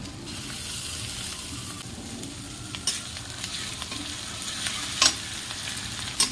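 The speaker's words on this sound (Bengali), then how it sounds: "রসুন আর আদা বাটাটা এক মিনিট মতন ভেজে নিয়েছি" Garlic and ginger paste fries in a pan for a village-style fish curry, a steady close sizzle with occasional sharper spatters and stirring clinks, no talk.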